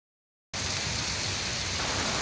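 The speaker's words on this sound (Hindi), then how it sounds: "देखिए इस तरह से जो बारिश होगी" Heavy monsoon rain pours steadily in Hyderabad, a dense, continuous hiss of drops striking surfaces that starts abruptly after a brief silence and holds loud and even throughout, with no voices.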